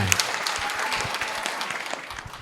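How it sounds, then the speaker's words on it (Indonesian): An audience at an interfaith dialogue event inside Istiqlal Mosque breaks into steady, dense applause, a continuous wash of many hands clapping at moderate volume throughout. "Tepuk tangan buat kita semuanya."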